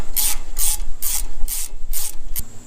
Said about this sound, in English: So if you watch it, the bolt backs out.